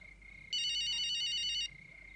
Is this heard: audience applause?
no